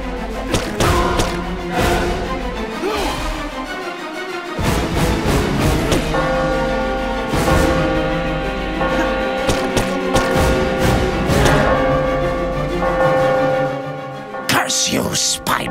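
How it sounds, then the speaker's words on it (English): Church bells clang repeatedly in the Spider-Man Friend or Foe video game, an ancient Transylvanian church setting, with loud ringing strikes and long resonant tails over game sounds and a voice speaking. "you'll need both bells ringing to really hurt him."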